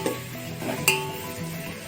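Onions frying in a pan for crab curry: a soft, continuous sizzle with a couple of sharper spatula clinks and stirring scrapes against the pan, close up and with no talk.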